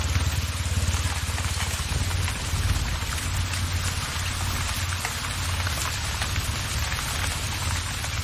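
Rain falls steadily in the Atlantic Forest, a loud, continuous wash of drops hitting leaves and surfaces, close and unbroken from start to finish with a low rumbling undertone.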